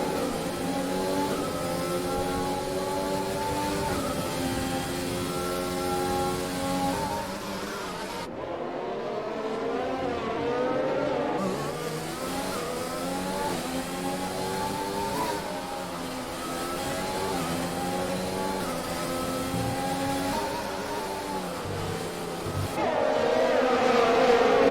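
Several race cars in a PC racing game at Monte Carlo, Monaco roar past in a close train, engines revving and shifting steadily throughout with a brief drop in the mix, loud and continuous.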